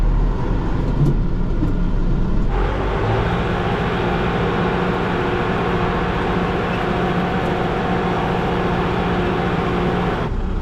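A tractor drags a box blade across a driveway, spreading gravel with a steady, loud, continuous engine drone and grinding. The low rumble thickens at about 2.5 seconds and stays even until it cuts off near the end. No one speaks.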